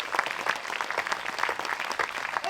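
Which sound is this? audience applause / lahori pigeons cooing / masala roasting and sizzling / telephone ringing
audience applause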